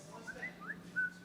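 A tablet chirps a few short, thin electronic tones in quick succession, faint and close, over a low steady room hum.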